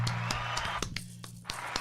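Hand claps from a small group of people, a scattered burst of sharp claps with uneven rhythm over a steady low hum, fairly close.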